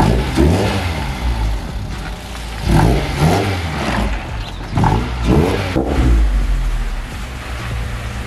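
A car pulls in over long grass, its mid-pitched engine revving in several uneven surges over a constant low rumble, loud and close, with rustling and scraping underneath.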